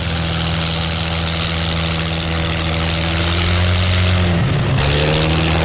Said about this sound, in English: Seagrave's new Sunbeam has 2 aero engines.